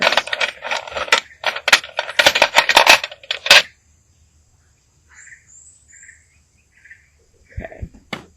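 Small rune stones clink and rattle sharply in a bag as one is drawn. A dense run of close clatters is followed by quieter chirping tones and one low thump.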